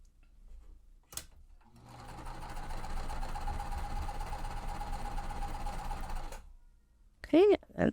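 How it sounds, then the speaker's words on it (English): A sewing machine stitches two fabric pieces together in one steady, rapid mechanical run of several seconds, close by. Brief clicks come before it, and a short chirping sound follows it. "I'm going to sew them both at the same time"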